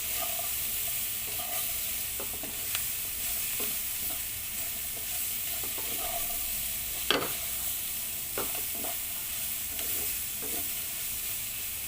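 Meat being mixed back into sautéed pancit ingredients in a pan over medium heat, a continuous bright sizzle with intermittent scraping clinks from the stirring utensil, close and steady throughout with no voices.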